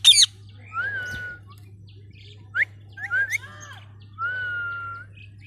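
A green parrot gives several sharp whistles, squawks and chirps in short separated bursts, close and clear over a quiet low hum, with no talk.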